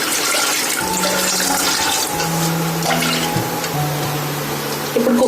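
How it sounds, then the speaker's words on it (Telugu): Water pours steadily into a pot of lentils with a green chili, a continuous close splashing gush that changes pitch slightly as the level rises, with no talking. "పప్పులో ఒక పచ్చిమిర్చి వేసాను ఇంకా వాటర్ పోసేసి"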